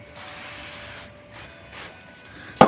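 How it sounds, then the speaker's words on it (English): Chemical cleaner sprays in several short hissing bursts onto the type segment and pivots of a Smith Corona typewriter, followed by a sharp knock at the end. "Let's see if we can spray it into the pivot."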